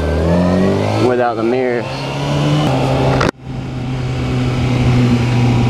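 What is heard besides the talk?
motorbike engine while riding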